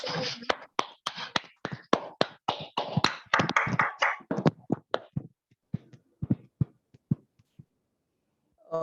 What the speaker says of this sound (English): Let's all stand and applaud her.